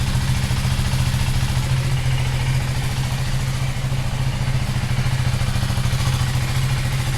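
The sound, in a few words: KTM Duke 390 motorcycle engine idling after cold start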